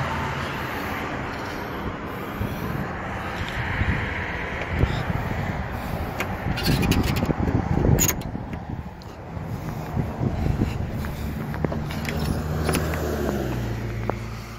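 A Mahindra Roxor LE with a small diesel engine idles and runs nearby in a steady, low rumble, with wind noise and someone talking over it.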